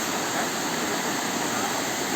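A forest waterfall pours down from above, producing a constant broadband rush that stays loud and unchanging from start to finish.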